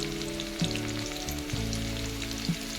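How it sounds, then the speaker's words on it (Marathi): Tomatoes fry in a hot pan for hakka noodles, giving a close, continuous sizzle with a few soft knocks of stirring and no talking. "आता टमाटर टाकते"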